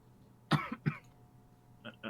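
A person coughs twice in quick succession close to the microphone, then gives two softer throat-clearing coughs a moment later, with quiet background in between.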